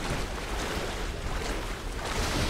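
A small waterfall in the game Tomb Raider (2013) gives a steady, close, broadband rush of falling water that holds an even level throughout, with no voices.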